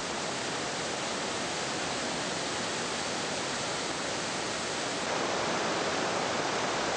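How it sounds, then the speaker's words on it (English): Emerald Pool, a small six-meter waterfall in Morne Trois Pitons National Park, gives a steady, dense rush of falling water. The hiss is broad and even, gets slightly louder near the end, and has no voices over it. "Emerald Pool is a small waterfall, 6 meters high"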